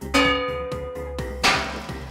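A bell rings with a clear sustained tone, struck twice a little over a second apart, each strike ringing out and decaying slowly.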